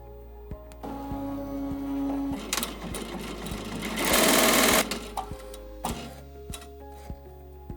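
A ZSK embroidery machine sews the placement stitch for an in-the-hoop fabric mask, a steady rapid mechanical stitching rattle with regular ticks that runs close and loud for several seconds, then stops.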